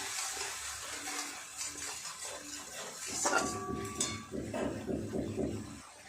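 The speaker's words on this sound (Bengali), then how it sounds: "জল দিয়ে দেবো এবার পরিমাণ মতো।" Water is poured into a pan of Bengali fish curry with green chillies, making a close, splashing gush partway through. Soft kitchen clatter from pots and utensils comes before and around it.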